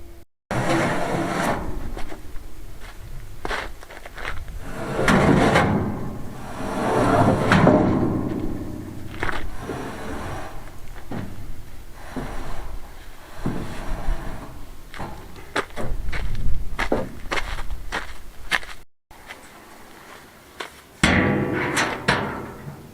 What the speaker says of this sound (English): I'm going to get cracking and get that wood out of that trailer